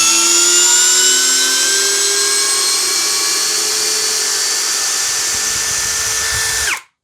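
A Hanabi LJ2022 impact drill runs unscrewing with a slipping chuck, giving a loud, continuous high whine that drifts slightly in pitch for several seconds before cutting off abruptly.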